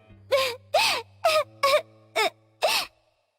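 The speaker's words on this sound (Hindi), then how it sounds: "वहां अचानक उसे किसी के रोने की आवाज आने लगी।" A girl crying in a forest as a cartoon story sound effect: six short sobbing wails in a steady rhythm, each rising and falling in pitch, close and clear over a faint low hum.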